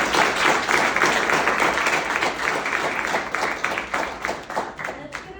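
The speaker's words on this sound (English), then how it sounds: "can we get some applause for Julia for putting this on together?" Applause from the audience at a community college leadership summit keynote, dense and steady clapping that thins toward the end, with a few voices mixed in.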